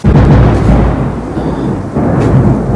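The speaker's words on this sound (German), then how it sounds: "So regnet es jetzt das erste Mal auf meiner Reise und gewittert in der Nacht." Thunder rumbles loud and close during a night thunderstorm at a campsite, a deep rolling roar that swells and fades with a second growl, heard alone with no talking.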